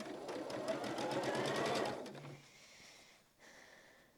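A sewing machine runs steadily for about two seconds, stitching the last quilt seam of a row, then stops; a few faint handling sounds follow, close and alone.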